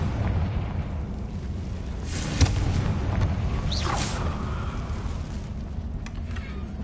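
Confringo fire spell blasting in the video game Hogwarts Legacy, a broad rumbling explosion with a sharp crack near the middle over a dense, steady game soundscape.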